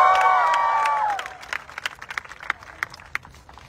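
Audience cheering and clapping at an outdoor ground promotion event for the Gujarati film Bhram, with a loud crowd roar and whistles fading after about a second into scattered claps and shouts.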